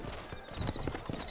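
Horse hooves clip-clopping in the Red Dead Redemption video game, in the New Austin region: a quick run of light hoof knocks over a steady background hiss, close and brief.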